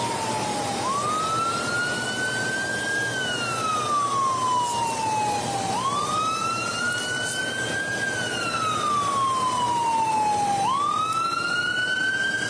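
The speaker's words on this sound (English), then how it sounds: "Sounds like an ambulance." An ambulance siren wails in slow rising and falling sweeps, three long cycles, loud and steady over a low traffic rumble, with no talk.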